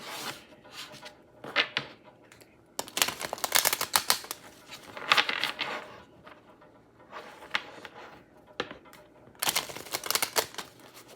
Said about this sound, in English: So I'm gonna go ahead and shuffle the deck and get started.